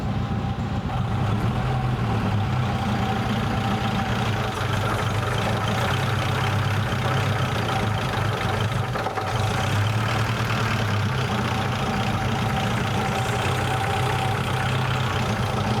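A vintage Blower Bentley engine idles slowly and steadily at about 400 RPM, a low, even rumble with a faint tick, running alone without pause.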